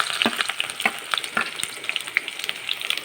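Onions with panch phoron spices, turmeric and salt frying in mustard oil, stirred now and then: a steady close crackling sizzle with scattered sharp pops and scraping strokes, no voices.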